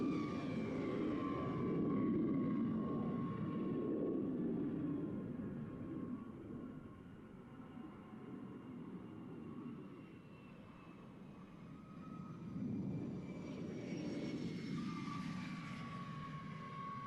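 Blue Angels jet aircraft taxiing back at the Reno airshow, a loud continuous roar of turbine engines with a high whine on top, the volume dipping in the middle and swelling again toward the end as the jets move.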